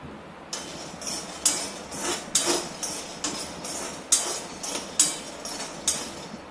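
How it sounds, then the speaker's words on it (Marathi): Peanuts are dry-roasted in a kadhai, with a spatula scraping and clinking against the metal pan in repeated sharp strokes, about one every half second, close and fairly loud over a quiet background. "आता कुकरच्या शिट्ट्या होईपर्यंत आपण हे शेंगदाणे कढईमध्ये भाजून घेऊया"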